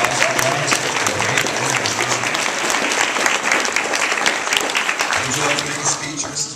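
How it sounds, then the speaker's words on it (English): Sustained audience applause at a school achievement awards ceremony as the PTA president is recognized: dense, even crowd clapping lasting several seconds, fading slightly at the end. "I think we should recognize Mrs. Wade with a big round of applause"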